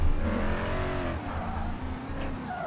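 Almost 7-liter American V8 engine of a car in the BeamNG driving game, a steady loud drone with shifting pitch as it revs, a brief tire squeal near the end.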